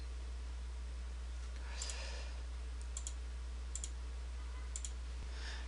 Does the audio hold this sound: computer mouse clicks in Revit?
yes